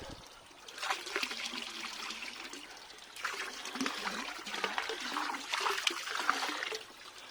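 Water trickles steadily into a koi pond filter on a warm day, a continuous splashing, bubbling flow heard close up with slight swells in intensity and no talking.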